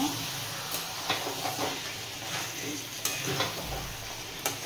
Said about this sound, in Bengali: আবারও একটু কষিয়ে দেব।